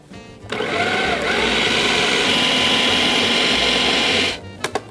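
A kitchen blender whirs loudly and steadily for about four seconds, pureeing liver, parsley, green onion and garlic into a stuffing for quail, starting and stopping sharply with a few clicks at the end.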